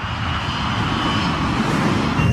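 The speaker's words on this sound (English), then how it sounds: "The operation of pulling the plane up in the missed approach was a very violent one. It was a very steep climb." Airliner jet engines roar steadily at high power as the heavy plane pulls into a steep, violent climb during a missed approach, a continuous loud rumble with a faint high whine and no talking.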